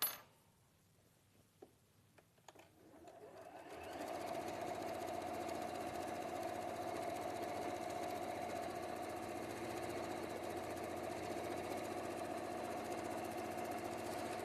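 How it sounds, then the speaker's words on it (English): A domestic sewing machine starts up after a few small clicks and then runs at a steady, even hum, sewing over an overlocked seam, close and continuous with no talking. "the other thing I can do on the sewing machine is also sew it the other way around"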